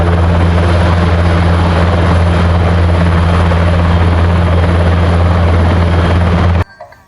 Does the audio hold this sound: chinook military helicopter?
yes